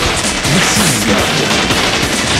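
Machine gun firing in the video game Bot Vice, a loud, dense stream of rapid shots that stays steady and unbroken for the whole stretch.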